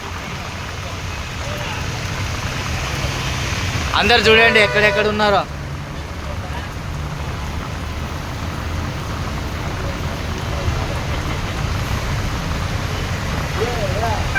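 Heavy rain pours down in Tirupati, a steady dense hiss that runs the whole way through, with a brief burst of nearby voices and passing sounds partway in. People talk over it.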